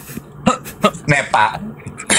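Several short, sharp coughs and throat-clearing bursts come from a person in a casual indoor chat, spaced unevenly and interleaved with brief speech.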